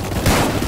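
Gunfire in the Roblox game Tower Defense Simulator, a loud, dense burst of overlapping shots packed into under a second with no pause between them.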